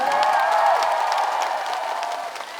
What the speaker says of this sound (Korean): 오늘 이 자리에 박서진 잘했다 생각하시면 박수 한 번만 주시겠어요?